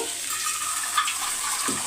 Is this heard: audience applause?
no